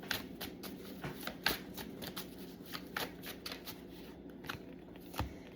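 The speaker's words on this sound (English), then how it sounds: "let's shuffle again and see if it comes back out." Tarot cards being shuffled by hand, a quick series of close, crisp riffling flicks and soft slaps in an irregular rhythm, quiet and without voices.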